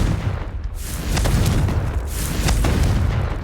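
Confringo spell explosions in Hogwarts Legacy, heavy booming blasts that roll and overlap at a loud, close level throughout, with a couple of sharper bursts standing out.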